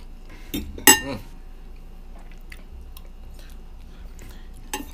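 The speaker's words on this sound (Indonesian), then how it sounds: "Jadi kita makan. Aduh, udah lama gak makan mie goreng" Utensils clink sharply against a dish twice in close succession, then tap faintly a few more times, during a meal of Indomie mie goreng instant fried noodles, near and otherwise quiet.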